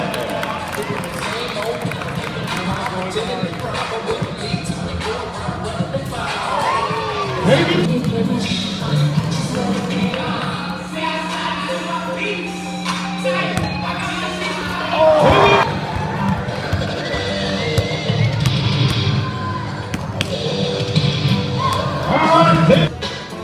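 A crowd in a gym at the Valley Center dunk contest roars and cheers for a contestant, steady and loud throughout, with an announcer talking over it and swells of noise near the middle and end.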